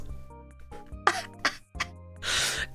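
A few sharp, close coughs and a raspy throat-clearing burst land over faint background music, each one short and breathy, ending in a longer rough hack.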